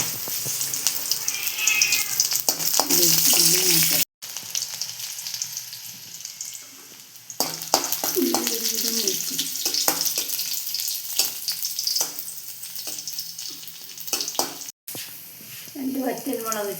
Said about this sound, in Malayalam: 2-3 കടുക് ഇട്ട് കടുക് പൊട്ടി വരുമ്പോൾ